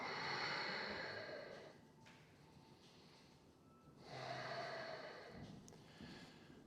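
Deep belly breaths during a lying knee-to-chest stretch, two slow broadband inhale-exhale swells, soft and close, with no talking.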